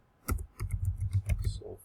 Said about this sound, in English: my typing is really slow in YouTube